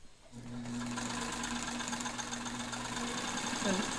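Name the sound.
Singer 185K sewing machine sewing material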